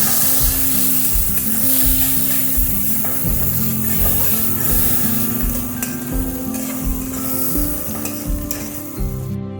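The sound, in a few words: onion and green chilli frying in mustard oil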